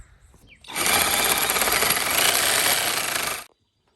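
A length of steel pipe for a chicken coop axle is cut with a power tool. A harsh, loud, grinding cut starts abruptly, runs steadily for about three seconds and then stops dead.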